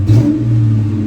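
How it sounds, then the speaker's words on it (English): A Ford Mustang GT engine starts, rumbling low and steady, revving up briefly at the start, then settling into a loud, close idle. "But I just got in the car, started it up."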